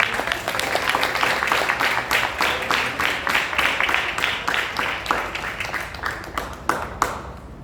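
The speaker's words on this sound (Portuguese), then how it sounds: "Vamos aplaudir." A church class group claps along, individual sharp hand claps in a fairly quick, uneven rhythm forming a small-room round of applause that thins out toward the end.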